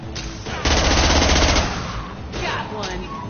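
Rapid automatic gunfire in Mass Effect 2 Legendary Edition combat, loud bursts that swell in the middle and return in shorter volleys, with voices calling out in the background.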